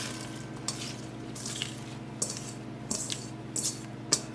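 A spoon stirring white bean soup with spinach and smoked sausage in a pot, soft intermittent scraping and sloshing over a low steady simmer, close and fairly quiet.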